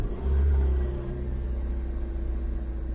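A car drives along as a sound effect in a horror audio drama, a loud engine rumble that swells early and then settles into a steady, close droning hum.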